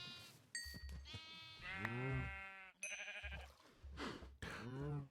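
Several sheep bleats from Minecraft GT New Horizons, wavering and nasal, sounding in quick succession across the clip, loud and close with short gaps between calls.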